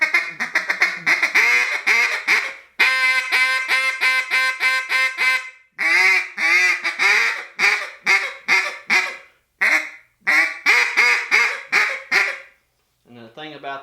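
A double reed duck call, louder and wider-ranged than a DRT model, blown in a run of loud, close quacking notes, with rapid staccato bursts and longer drawn quacks, heard alone with brief pauses.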